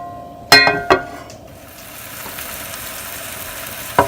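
Garlic sautés in oil in a non-stick pan as a soft, steady sizzle, opened by a sharp metallic clink and a second tap, with another clink near the end, close and without speech.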